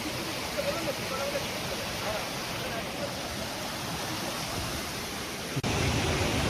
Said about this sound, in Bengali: এই ঝর্ণাটা পার হতে হবে